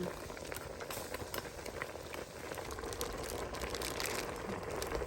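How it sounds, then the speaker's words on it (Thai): Curry liquid bubbles at a steady boil in a pot, a continuous close hiss and crackle of popping bubbles with no break. "เดือดละ"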